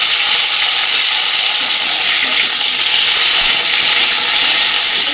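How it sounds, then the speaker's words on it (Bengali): Cauliflower and broccoli fry in a pan with a loud, steady hiss and sizzle that holds without a break for the whole stretch, close and strong. "এটা প্রথমে দেবো ফুলকপি, ফুলকপি আর ব্রকলি একসাথে দিয়ে দেবো।"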